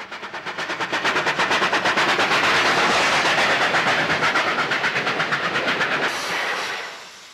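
Steam locomotive 3827 hauls the Coonamble Mail on the outskirts of Wellington with loud, rapid exhaust beats pounding in steady rhythm as it passes close, then the chuffing fades into a rolling rumble.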